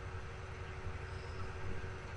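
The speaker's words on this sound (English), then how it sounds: "Let's get another shot of the train passing by with the number of hoppers that we have." A freight train hauling hopper wagons rumbles past in Train Simulator on the Settle to Carlisle route, a steady low rolling roar with a faint tonal hum and no talk.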